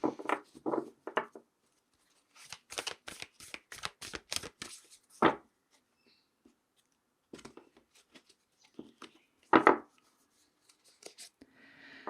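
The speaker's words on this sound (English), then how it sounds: "So let's pull some more cards for you here" Tarot cards shuffled and pulled during a weekly Libra reading, giving quick bursts of riffling and flicking snaps separated by pauses, fairly close and unaccompanied by talk.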